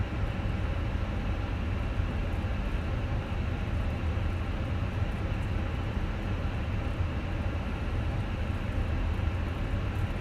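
A Fenix airliner's engines roar steadily during takeoff in Microsoft Flight Simulator, a continuous, even, low-heavy rumble holding at a constant level from start to finish without talk.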